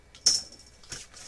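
Scissors snip through a piece of paper for a mini pocket album, two crisp close cuts with a short pause between them, no talking.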